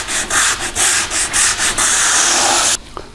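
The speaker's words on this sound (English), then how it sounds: "I like to clean it out with a little sandpaper." Sandpaper is rubbed by hand over wood while a Murphy bed is being built. It starts with a series of short, rhythmic scratchy strokes, turns into one long continuous rasp, and then stops abruptly into near silence.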